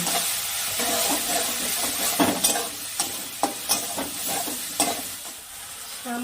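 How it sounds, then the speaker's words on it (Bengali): Spice masala with Kashmiri chilli powder and salt frying in a pan for a katla fish curry, with a steady sizzle broken by repeated sharp scrapes and knocks of a spoon stirring it, close and alone. "এবার মশলাটা ভালো করে কষিয়ে নেব"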